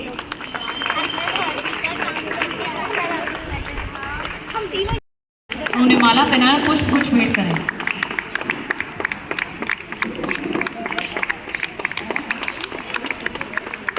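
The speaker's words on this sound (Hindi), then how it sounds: "प्लीज तालियां बजाते रहिए।" An audience at a Republic Day ceremony keeps clapping while guests are garlanded and given flowers. The crowd's steady, crackling applause runs under a woman's loud announcement and background chatter, with a brief dropout midway.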